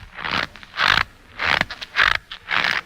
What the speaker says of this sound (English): That sound is produced by taking a box of cornstarch and squeezing it in the same rhythm in which a person would walk.